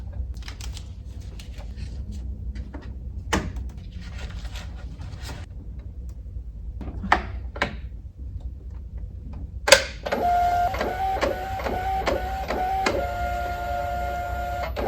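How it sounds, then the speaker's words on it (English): A label printer runs, first with scattered soft clicks and taps, then a continuous whirring feed with rhythmic mechanical pulses and a steady tone as labels print, close and clear. "with this printer, it already knows what type of label I've just inputted"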